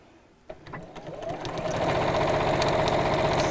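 A sewing machine stitching over marked lines at a 2.8 stitch length, starting with a click and running up to a steady, fast mechanical whir close by.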